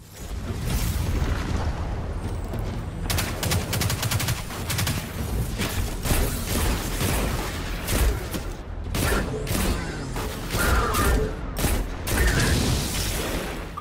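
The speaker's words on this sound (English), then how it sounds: "Let's check out this hand cannon." Hand cannon gunfire in the first-person shooter Destiny 2, heard as loud, dense bursts of repeated shots over a constant mechanical din and explosions, with the shots clustering more tightly in the second half.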